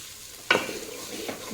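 Rice and lentils fry in a pot for khichuri with a soft, steady sizzle, joined by one sharp stirring clatter and a quieter scrape later, fairly faint and close.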